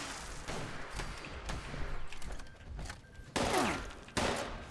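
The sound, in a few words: gunfire in Fallout 76 video game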